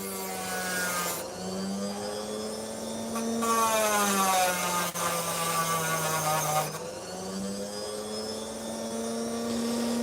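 A machine cuts opal with a steady humming whine that dips and rises in pitch as the load changes, while a brighter grinding rasp comes and goes in two longer stretches, close and continuous.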